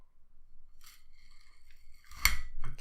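A knife cuts through a Nestlé Lion chocolate bar with crispy cereal pieces, a quiet scrape that builds to a sharp crunching snap near the end, close and alone.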